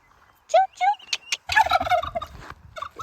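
A fowl gobbles in several quick, bubbling bursts, loud and close, with a few short clucks and calls scattered between them.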